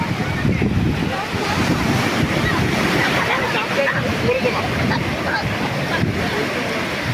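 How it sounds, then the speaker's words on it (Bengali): Waves crashing and washing along Cox's Bazar beach, a loud, sustained roar of surf with gusty wind hitting the microphone, continuous throughout with no distinct talking. "হয়তো আপনারা শুনতে পাচ্ছেন সমুদ্রের সে ঢেবির শব্দ"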